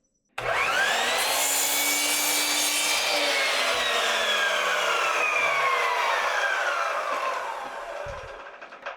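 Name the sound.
cutting a 1 inch cedar strip for a nesting box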